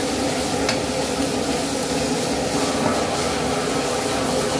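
Bitter melon and egg stir-frying in a pan, a continuous dense sizzle with scraping stirring, loud and steady throughout with no talking.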